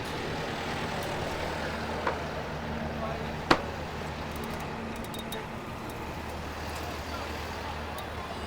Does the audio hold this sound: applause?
no